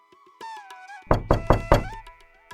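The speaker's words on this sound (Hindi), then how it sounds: "किसी ने धीरे से दरवाजा खटखटाया।" Soft knocking on a door in a Hindi village story: four quick knocks in a cluster after a brief musical tone, close and fairly distinct against a quiet background.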